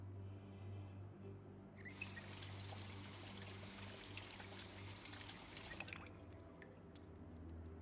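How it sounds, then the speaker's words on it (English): Water running from a tap in Project Zomboid, a steady pouring splash that starts abruptly, flows evenly for about four seconds, then cuts off with a few trailing drips, faint over a low background hum. "Water's still on."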